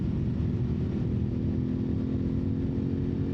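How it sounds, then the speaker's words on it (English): Steady engine drone from an Aprilia Tuareg 660 adventure motorcycle ridden up a mountain road at higher revs, a continuous close hum with wind noise and no talking. "I'm going to ride it a little higher in the RPM range than I typically do."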